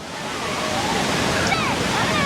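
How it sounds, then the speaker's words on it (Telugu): Lakkam waterfall, a large waterfall in Eravikulam National Park, gives a dense, steady roar of falling water that stays loud and unbroken from start to finish. "ఇది చాలా చాలా అంటే చాలా పెద్దగా ఉంది వాటర్ ఫాల్"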